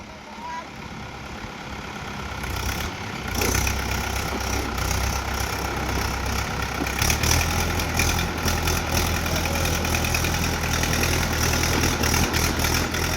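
A Mahindra 475 DI tractor engine stuck in mud, a steady low diesel rumble that grows louder partway through and keeps churning, with people talking over it.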